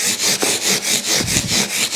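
Guitar frets are sanded with 240 grit sandpaper in quick back-and-forth strokes, a loud, close, rhythmic rasping of about eight even passes with no talking.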